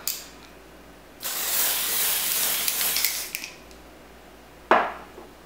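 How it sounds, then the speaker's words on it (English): Givenchy Brume Bonne Mine aerosol makeup spray spritzed up close: a steady two-second hiss of mist that tapers off, later a short sharp click-like spritz, with no talking. "I'm gonna do one more spritz just so that you can see what the coverage is, because it is buildable."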